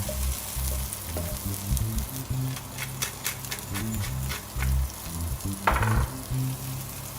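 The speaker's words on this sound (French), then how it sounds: "Je vais mettre un peu d'ail, quelques bâtons de citronnelle pour faire infuser dans l'huile." Garlic, lemongrass stalks and small onions frying in hot oil, a steady close sizzle with occasional stirring scrapes and clinks, no talking.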